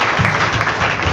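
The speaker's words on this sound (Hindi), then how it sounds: "प्रेज द लॉर्ड, ताली बजा के।" Audience clapping hands at a church gathering, a dense, steady burst of many hands that fills the whole short stretch at close range, with no voices heard.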